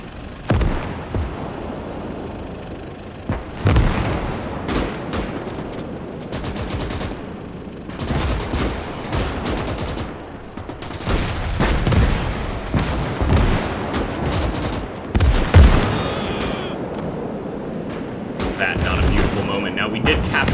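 Gunfire and heavy explosions from the World War II game Call to Arms: Gates of Hell as Soviet troops fire on an enemy trench, with dense, overlapping bursts and booms continuing throughout, mixed with a talking voice.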